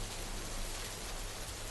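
Steady rain falling at night, a dense even hiss with no distinct drops and no voices over it.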